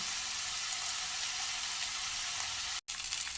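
Soaked chana dal and rice fry in a pan, a soft, steady sizzle that holds evenly and cuts out for a brief instant near the end.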